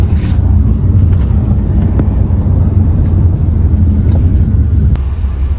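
A 2021 Hyundai Creta SX(O) SUV cruising at highway speed, steady loud low road and engine rumble with wind buffeting throughout, no speech.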